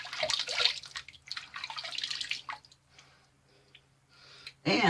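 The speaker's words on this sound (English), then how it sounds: "So I'm going to just re-wet my face." Water splashes as a face is re-wet with hot water before a traditional double-edge wet shave, with several quick splashy bursts at a sink, a quieter dripping pause, then one more splash close by.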